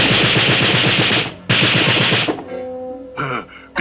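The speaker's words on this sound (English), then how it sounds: "Darnation, them was gunshots." Cartoon gunfire crackles near Baddie's ranch in a Wild West setting: dense, rapid volleys of shots fill the first two seconds, break briefly, resume, then give way to a musical sting.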